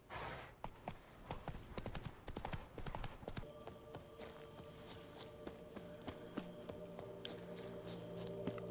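Geralt's horse in The Witcher 3: Wild Hunt trots with brisk, regular clip-clop hoofbeats, close and moderately loud, over a faint steady game ambience.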